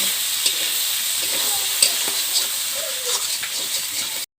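A steady sizzle of salted fish curry masala cooking in a hot pan with turmeric and salt, close and loud, with scattered scrapes and taps of a spatula as it is stirred, before stopping abruptly.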